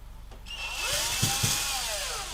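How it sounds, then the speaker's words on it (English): A small power drill with a tiny bit bores into a wall, a steady high whine that starts after a brief pause and runs on with a couple of low thumps. "I used a little tiny drill bit just to double check in the wall to make sure that is actually accurate"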